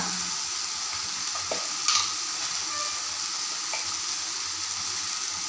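Sweet potato mixture is stirred with spices, turmeric and salt in a hot pan, a close steady sizzle with a few scraping knocks of the spoon and no talk.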